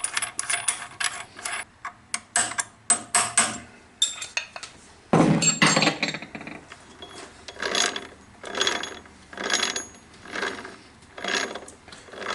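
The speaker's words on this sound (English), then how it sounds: "this idler is always very noisy" A noisy idler gear on a metal gear shaper clatters and rattles in uneven bursts, with sharp metallic clicks and ratcheting, then settles into a steady rhythmic pulsing clatter of repeated strokes close by.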